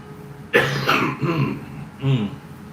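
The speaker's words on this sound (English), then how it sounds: "Blowing my nose live on TV now." A person blows their nose during a live stream with a sudden loud honking burst, a rougher follow-on blow, then a second short snort after a brief pause.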